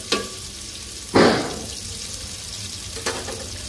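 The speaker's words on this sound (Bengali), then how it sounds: "তো পেঁয়াজটা ভাজবো।" Onion fries in oil in a pan as the base for a Malabar spinach and shrimp curry, giving a low ongoing sizzle broken by a few sharp spitting bursts, the strongest about a second in, all close and with no talking.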